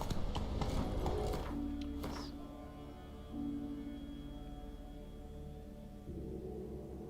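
Roach the horse trots along with steady clip-clopping hooves in the video game Witcher 3, moderately loud at first and fading to a softer rhythmic patter, with low droning ambience underneath.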